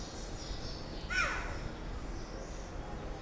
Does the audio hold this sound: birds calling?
yes